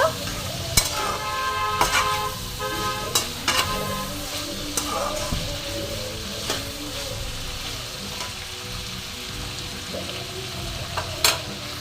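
Grated ginger fries in a pan for restaurant-style chilli chicken while a spatula stirs and scrapes it. A bright sizzle runs underneath, broken by a series of sharp metallic clinks and knocks against the pan.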